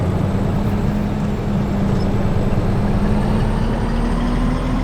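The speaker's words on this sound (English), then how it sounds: "that engine brake is really..." A Western Star 4800/4900FA truck in American Truck Simulator, its engine brake a steady, loud, deep low rumble that drones evenly throughout with no talking.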